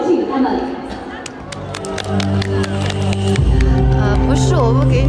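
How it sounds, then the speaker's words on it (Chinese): Audience at a Barkam guozhuang folk dance contest applauding as performers are welcomed: scattered claps under a presenter's talk, swelling into louder crowd noise toward the end. "掌声有请他们"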